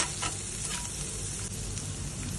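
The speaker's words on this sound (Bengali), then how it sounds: "আমি পেঁয়াজটা একটু নাড়িয়ে চাড়িয়ে নিচ্ছি" Onions sizzling in a hot pan with a pinch of salt as they are stirred, a steady close frying hiss with soft scraping strokes and no speech.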